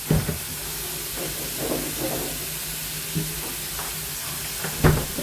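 Prawns cook in a pan with a steady hiss and sizzle, with a few soft clinks and stirring knocks over the frying.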